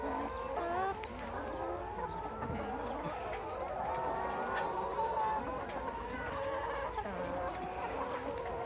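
Young pullet hens on a deep-litter poultry farm cluck and chatter continuously as a dense flock, with overlapping calls close by and someone talking faintly underneath.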